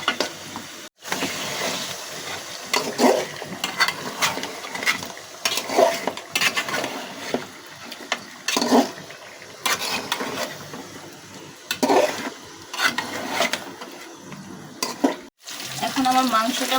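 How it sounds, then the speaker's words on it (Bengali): Beef pieces frying in a pan while their released water cooks off: steady close sizzling, broken by repeated scraping and clattering of a spoon stirring against the metal, with brief pauses. "আমি মাংসগুলো ততক্ষণ পর্যন্ত ভাজবো যতক্ষণ পর্যন্ত"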